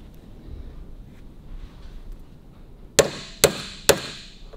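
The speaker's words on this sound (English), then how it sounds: "Right, let's get a hammer." Three sharp metallic hammer blows ring out in a steady rhythm on a punch while working on a WWII Harley-Davidson WLA roller tappet, close and loud, following a quiet stretch of faint background noise.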